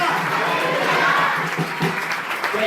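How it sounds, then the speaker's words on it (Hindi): A church congregation in Andhra Pradesh claps loudly together during worship, a dense, even wash of applause that carries on for the whole stretch, with voices faintly underneath. "जोर से ताली मारकर प्रभु से मान करें"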